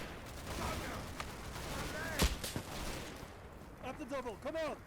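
Machine guns firing in the Combat Mission: Battle for Normandy war game, several of them at once, heard as fairly faint bursts among other battle noise with someone talking over it.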